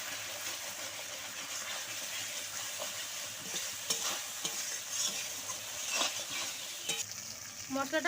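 A spice paste with salt and turmeric for a pangas fish curry sizzles steadily in a pan, with a spoon scraping and clinking as it is stirred close by.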